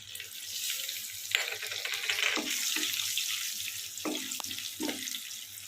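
Whole spices, including dried red chilli, cinnamon, cardamom, cloves and peppercorns, fry in hot oil for chicken rezala, giving a soft crackle and sizzle with a few sharp clinks of a utensil against the pan.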